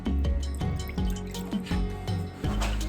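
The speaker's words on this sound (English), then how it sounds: "I'm just going to pour a little bit of vinegar into the bowl" Distilled 5% vinegar is poured into a small bowl, a close, steady run of liquid with repeated bright drip-like plops and splashes throughout, no voices.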